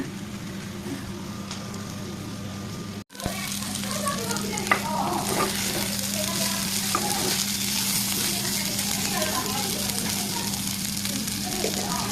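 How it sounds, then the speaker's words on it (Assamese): Papad fries in hot oil in a pan, a steady, close sizzle broken by a brief dropout near the start, then continuing evenly with light crackles over a low background hum. "লাষ্টত পাপৰ ভাজিলোঁ"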